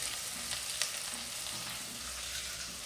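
Okra dropped into hot oil sizzles in a steady, close frying hiss with soft crackles, heard alone with no talking.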